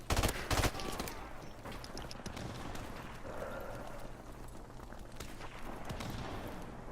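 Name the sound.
burst-fire gun shooting in a video game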